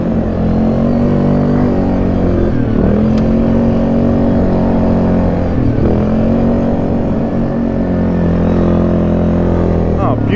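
A four-seater off-road vehicle drives at steady speed, its engine droning loud and close, with two dips as it shifts or eases off the throttle. People talk over the engine noise.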